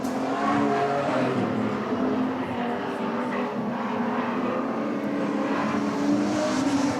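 Street stock race cars drone around a track during practice laps for a state title, a steady loud engine roar with layered, sustained tones that never drops away.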